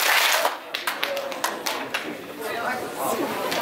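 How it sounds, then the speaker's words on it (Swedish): Audience applause for Christer at a Swedish talent show grand final, a broad wash of clapping with crowd chatter that starts strong, dips briefly, then swells again and holds steady to the end. "nu ska vi göra en riktigt stor applåd för Christer"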